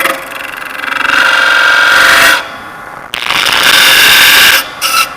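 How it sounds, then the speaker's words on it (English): A spindle gouge cutting a wooden tenon on a spinning lathe makes a loud, steady rasping shear in two long passes, with a brief pause between and a short scrape at the end. "So my tenon, I need to angle in slightly. I like to use a spindle gouge to do that."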